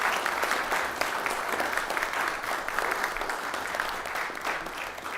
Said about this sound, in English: let's go ahead and give a round of applause to Andrew and Larry